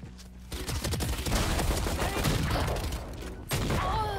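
Shotgun blasts and heavy gunfire from a Valorant match ring out loud and close, with a burst of shots through the middle and a sharp blast near the end.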